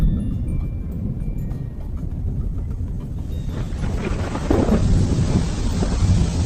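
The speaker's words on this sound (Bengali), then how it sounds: "এই রে, জোরে বৃষ্টি শুরু হয়ে গেল যে" A cartoon storm opens with a deep, rolling thunder rumble. After a few seconds a loud, dense hiss of heavy rain joins in and continues to the end, with no talk.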